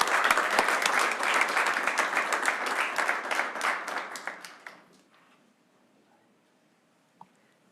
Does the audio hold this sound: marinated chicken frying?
no